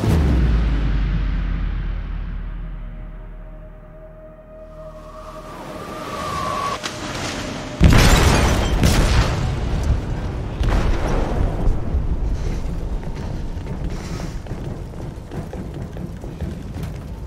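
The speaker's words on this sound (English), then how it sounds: "They detonated an explosive in the hold." A heavy explosive blast goes off in a ship's hold in the game Detroit: Become Human, a sudden loud boom followed by a long rumbling, crashing roar that fills the rest of the moment.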